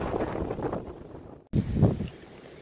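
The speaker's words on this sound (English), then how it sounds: "If you can't hear me, that's because it's super windy." Strong wind buffets the microphone on a beach at Ramsholt in England, a steady broadband roar with a brief dropout midway before the gusts surge back loud and close.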